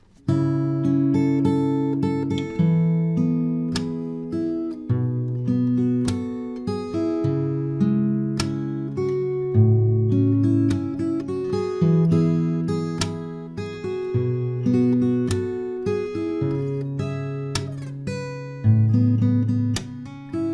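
Acoustic guitar played fingerstyle, an arrangement of a song, with steady plucked bass notes and ringing melody lines in a continuous, even rhythm, close and clear with no voices.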